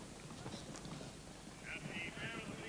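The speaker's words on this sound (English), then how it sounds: "Coming to the first ditch, Compton Lad, Melodic Lad, and Pastry Brush." Hooves of racehorses drum and clip-clop over turf in a 1984 Cheltenham steeplechase, the Foxhunters Chase, a fast irregular patter partly buried under a commentator's talk and outdoor wind.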